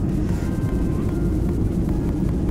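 Steady, loud low roar inside a passenger airplane cabin on a flight from Chennai to Bangalore, a constant engine drone with faint background sounds.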